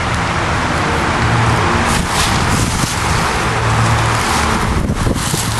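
An Onan 15 kW four-cylinder diesel generator runs with a steady low rumble, heavily masked by loud, rough wind buffeting on the microphone.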